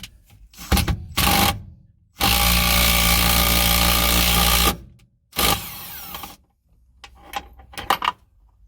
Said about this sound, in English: You hold this back while you tighten the nutsert part inside.